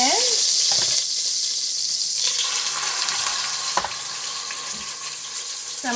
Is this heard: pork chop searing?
yes